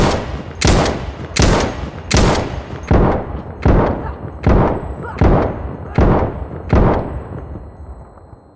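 A light machine gun in Insurgency: Sandstorm fires as the trigger is held, giving a steady run of about ten loud, evenly spaced bursts. A thin, high ringing tone begins partway through and lasts to the end.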